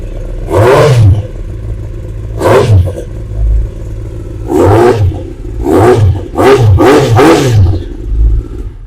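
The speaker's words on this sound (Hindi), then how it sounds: "Akrapovic का थोड़ा साउंड डिफरेंट होता है, बहुत ही अमेजिंग साउंड है" A pre-owned sport bike with an Akrapovic exhaust is revved hard in about six sharp, loud blips of rising and falling engine note over a rumbling idle, close by with no voices.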